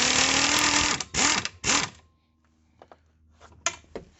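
A pneumatic air impact gun spins a nut on a CFMOTO ZFORCE 800 UTV winch in two or three short, loud mechanical bursts, followed by quieter clicks and handling noises.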